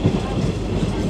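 A passenger train on the Salgare to Pandharpur line rolls along slowly, its wheels clicking over rail joints in a steady clickety-clack heard from inside the carriage, loud and close, with faint voices in the background.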